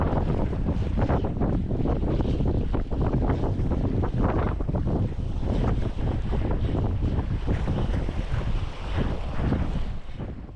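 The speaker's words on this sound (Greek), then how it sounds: "Αλλαγή του αέρα, αρκετά μποφόρ και αρκετό κρύο." Strong, cold wind buffets the microphone on a fishing boat at sea, making a loud, continuous roar with gusty surges and rushing water beneath it, and no voices.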